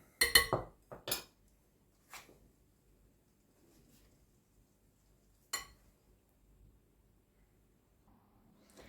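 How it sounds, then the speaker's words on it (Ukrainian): A spoon stirring dough in a bowl while flour is added, giving a few sharp clinks and knocks against the bowl, clustered at first and then sparse, with quiet gaps between them. "І частинками додаю сюди борошно і вимішую."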